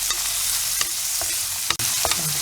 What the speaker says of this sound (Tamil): வெங்காயம் கொஞ்சம் நல்லா கிளாஸியாக வர்ற வரைக்கும் வதங்கட்டும்